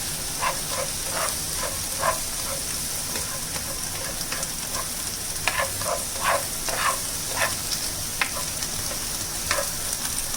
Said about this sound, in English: Now we will add our capsicum. And saute it lightly.